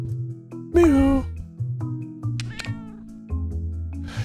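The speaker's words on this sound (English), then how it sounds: "Meow." A cat meows in a drawn-out, wavering call over a low background hum, followed by shorter, fainter mews, with voices faintly present.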